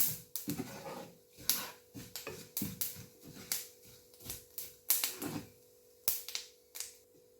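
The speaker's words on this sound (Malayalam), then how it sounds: "കടുകൊക്കെ പൊട്ടുന്നുണ്ട് കേട്ടോ" Sharp, scattered pops and crackles of mustard seeds bursting in a hot pan, irregular and close, with quiet gaps between.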